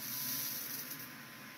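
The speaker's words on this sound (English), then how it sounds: "It's watering the bowl right now." A bidet toilet seat sprays water into the bowl, a steady close hiss of water that holds evenly, then eases slightly softer partway through, with no voices.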